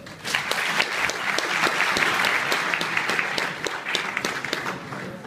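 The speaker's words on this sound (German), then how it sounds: "Kurz Applaus bitte." A boxing event crowd applauds the referee's introduction at Bochum Boxing, a sustained wash of many hands clapping, moderately loud and even, with crisp individual claps poking through.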